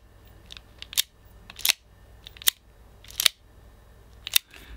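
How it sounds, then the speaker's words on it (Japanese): Metal action of a discontinued Kokusai S&W M29 Adjustable Front Sight metal model revolver: five crisp, close mechanical clicks spaced about a second apart, each a sharp snap with brief ringing, heard with no talk. "金属の作動音、"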